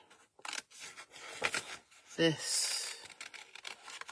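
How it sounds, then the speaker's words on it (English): Scissors cut round hand-drawn shapes in paper card in short, close snips and crunches, with scattered quiet handling noises and a voice speaking briefly. "We're going to cut round"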